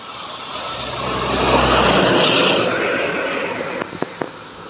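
An Indonesian intercity bus of the Balap Putra Pelangi line swells into a loud, roaring pass-by on the road, its engine noise peaking midway and then fading, followed by a few sharp knocks.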